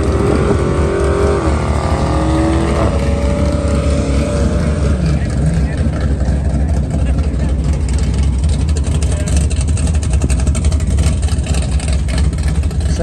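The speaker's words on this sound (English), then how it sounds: "It's a good burnout." A turbocharged LS-swapped Nissan 300Z does a burnout at a drag strip, a loud sustained roar of engine and tire noise that fills the whole stretch without letup, with some rising engine tones early on.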